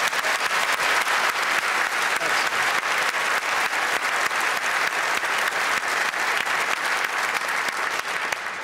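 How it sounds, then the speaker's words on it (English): Studio audience applause on a British TV review programme, a dense, steady wash of many hands clapping at even loudness throughout, with no talk over it. "Applause for that."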